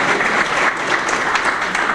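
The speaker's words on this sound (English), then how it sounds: "One more round of applause, please, for all of our service organizations." Luncheon audience applauding for service organizations, a steady dense wash of many hands clapping at close range, sustained throughout with no pauses.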